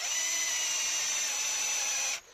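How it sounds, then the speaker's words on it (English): A power drill runs steadily with a larger bit, boring into a motorcycle engine part from a Suzuki FZ50 being restored, a sustained high whine that cuts off abruptly near the end. "let's change that drill bit. We'll go up a couple of half a mil"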